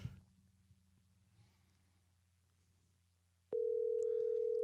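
A phone call's ringing tone cuts in after a stretch of quiet room hum, a loud, steady electronic tone that holds unbroken to the end, close and alone.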